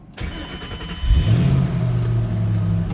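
A 2007 GT500 engine cranks and catches after about a second, then revs up and holds a strong, steady rumble close by, with no talk.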